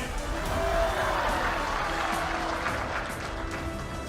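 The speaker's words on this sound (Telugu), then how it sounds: "ఒక్కసారి గుర్తు తెచ్చుకొని చప్పట్లు కొట్టిండే" Audience clapping at a political rally, a sustained wash of applause from a large crowd that holds steady for several seconds, with faint voices mixed in.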